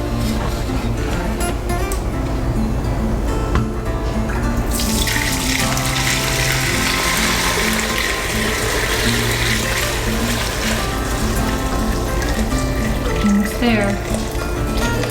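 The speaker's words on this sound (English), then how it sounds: "I'm going to pour it through this skimmer, and we're going to take out all the bonito flakes, the ginger, and the leftover pork pieces" Homemade pork broth with bonito flakes, ginger and pork pieces is poured through a kitchen skimmer, a loud continuous splashing stream that swells brighter midway, with a brief spoken word.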